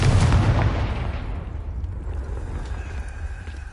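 The Confringo blasting spell in Hogwarts Legacy, a loud booming explosion that bursts at the start and rumbles away over a few seconds, with no voices.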